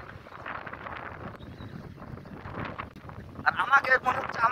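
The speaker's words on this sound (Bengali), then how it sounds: "এত পরিমাণ বাতাস, একদম কালা হয়ে গেছে" A strong stormy wind under a darkened sky buffets the microphone in uneven rumbling gusts that build louder toward the end, with a person talking through it.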